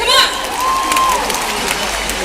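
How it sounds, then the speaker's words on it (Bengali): A crowd at the Dum Dum Sangeet Mela 2024 music fair gives a loud, sustained wash of applause and cheering, with faint tonal whistles and music lines running through it. "নিজেরা নিজেদের জন্য একটা জোরে হাততালি হয়ে যাক"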